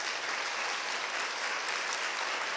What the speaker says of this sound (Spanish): Puede darle un fuerte aplauso al Rey